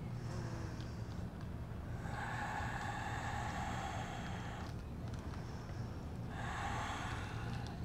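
Slow, deep breathing during a yoga session while holding downward-facing dog, with long audible inhales and exhales in a steady rhythm over a constant background hiss.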